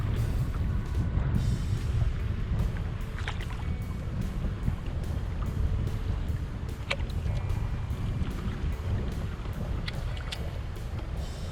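Steady wind roars over a small fishing boat at sea off Arbroath, Scotland, a constant broad rush with faint creaks and splashes throughout, no talking.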